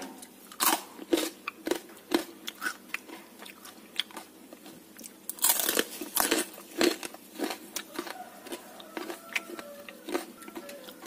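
A crispy peanut fritter is bitten and chewed up close, a string of sharp crunches in an irregular rhythm that bunches into quick flurries, quiet between bites, with no talk.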